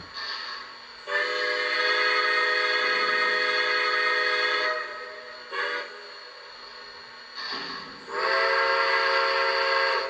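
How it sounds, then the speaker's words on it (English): A Lionel Visionline Pacemaker J1E Hudson model steam locomotive's whistle blows in several chime-like blasts, two long ones with short toots between, loud and close with no talking. "I think that's the S2 whistle."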